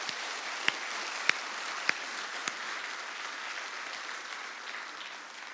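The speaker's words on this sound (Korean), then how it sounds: "하나님 앞에 영광의 박수 한번 올려드릴까요?" A church congregation at a Sunday worship service applauds together, a steady soft wash of clapping at a distance with a few sharper individual claps standing out, holding evenly for several seconds.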